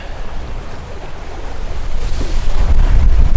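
A catamaran under sail heads out of Norfolk harbor with about 10 to 12 knots of wind behind the beam. Rushing water and waves build steadily against the hull, mixed with buffeting wind noise on the microphone.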